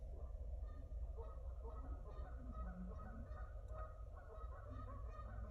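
Wild bird perched on a car door calling close by, a run of repeated honking, goose-like calls over a low, steady rumble of background noise, with no speech.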